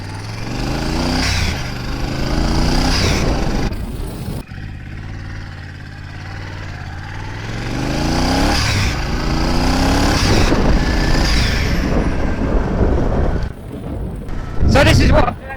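A twin-turbo bobber motorcycle engine runs loudly nearby, revving up and down in repeated swells with a brief cut partway through and a sharp roar near the end.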